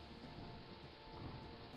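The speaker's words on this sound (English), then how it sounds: "Oh, a lightning strike as well." Thunderstorm in the King's Quest 3 remake adventure game: steady rain and rolling thunder roar evenly throughout, a dense low wash with no talking.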